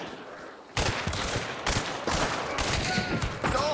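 Gunfire in a video game, fired through walls, as a loud close burst of overlapping shots that rattles on steadily for several seconds without any talking.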